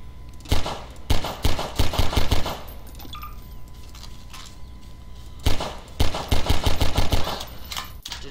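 Pistol fired in rapid bursts, two volleys of sharp, loud shots in quick succession separated by a short pause, with a faint tone and background hum between them.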